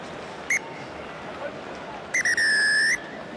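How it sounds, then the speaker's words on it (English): A referee blows the whistle for half-time at a rugby match between Harlequins and the Maori All Blacks at The Stoop: one short blast, then a long shrill one, heard over steady crowd noise. "there goes the whistle for half-time"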